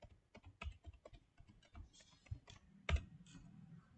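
Fingers tap out a number on a computer keyboard in a quick, uneven run of close, crisp keystrokes, with one sharper press near the end and no talking.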